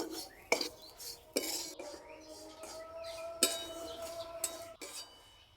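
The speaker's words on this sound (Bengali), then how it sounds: "সুজিটা গাজরের সঙ্গে কিছুক্ষণ এইভাবে নেড়ে নেব।" Semolina is stirred with grated carrot in a pan, heard as quiet scrapes and sharp clinks of a spoon against the metal at irregular intervals over a faint background.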